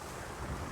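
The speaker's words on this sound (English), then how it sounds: "Right now I feel a bit of a gust." Gusty wind on open water during windsurfing, a steady broadband rush of wind and surf that swells slightly toward the end, loud and close with no voices.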